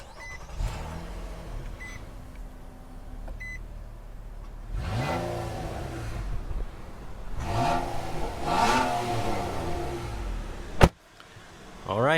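A 2022 Nissan Maxima engine rises and falls in several quick revving bursts, fairly close, with a sharp click near the end and faint background noise.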